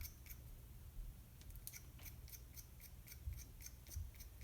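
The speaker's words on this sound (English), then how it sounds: "I'm going to use these little scrap pieces of charcoal and my X-Acto knife," X-Acto knife scraping scrap charcoal pieces to shed dust onto paper, a series of faint, crisp scratchy ticks in an irregular rhythm, close and quiet over low background hum, with no talking.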